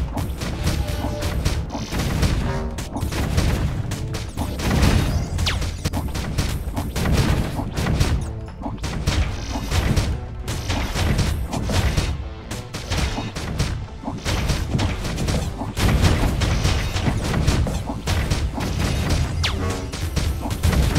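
Rapid enemy shots in the roguelike space shooter video game Galactic Glitch, a dense, continuous barrage of bursts, crashes and impacts layered with game music at steady high loudness.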